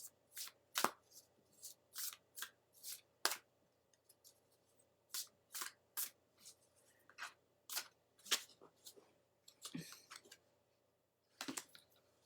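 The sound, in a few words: shuffling a deck of oracle cards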